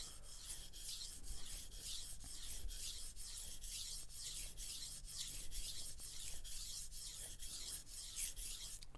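Soft steel knife drawn across a sharpening stone in a steady series of quiet, even rasping strokes, about a dozen passes at a regular rhythm with no talking.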